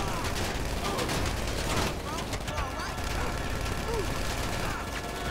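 Gunfire in GTA 5 runs as dense, continuous shooting and explosive bursts, loud and unbroken throughout, with excited voices faintly mixed in.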